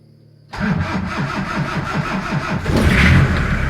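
A car with a weak battery is jump-started using a welding machine: the engine cranks in a rapid rhythmic chug, then catches and settles into a loud, close running rumble that rises slightly.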